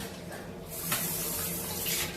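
Warm water runs from a tap in a flat in Malta, a steady close splashing rush that swells slightly partway through and continues to the end.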